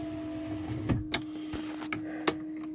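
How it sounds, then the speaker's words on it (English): Electric power window motor in a 2006 Ford F250 Super Duty truck, a faint steady whirr with a low hum, broken by a few sharp clicks and thumps as the glass moves, heard alone without talk. "I'll open the window again so we can hear it run."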